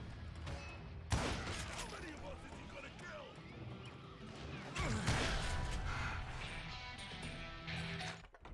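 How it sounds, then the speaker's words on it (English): Gunfire fusillade in the western shooter Call of Juarez: Gunslinger, a dense burst of shots and impacts crashing in at about one second and again near five seconds, loud over game ambience with a voice narrating throughout. "a fusillade of bullets come raining down from on high"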